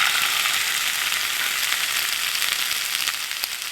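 Tomatoes drop into onions already fried until reddish in a hot pan, giving a steady, loud, bright sizzle that holds evenly throughout with no voices.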